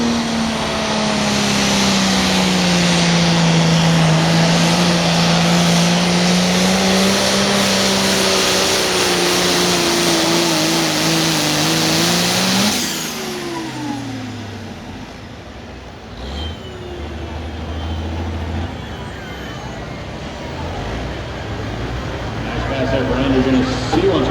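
A pulling tractor called the Dirt Slinging Demonstrator roars loudly at a tractor pull in Mound City, Missouri, its engine pitch rising and sweeping for several seconds, then cutting down to a lower rumble before climbing again, with an announcer talking over it.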